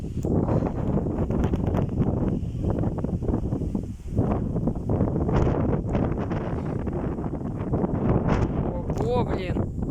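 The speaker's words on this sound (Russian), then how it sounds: "Посмотри, какой ветер-то поднялся, а?" A strong windstorm sweeps across an open field with gusts around 23 metres per second, roaring and buffeting the microphone in a continuous loud rush, with voices breaking through now and then.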